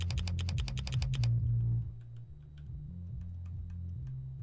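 A clicky switch pressed repeatedly in the video game Do Not Press The Button, with a fast run of crisp close clicks that stops abruptly, then scattered faint ticks over a low hum.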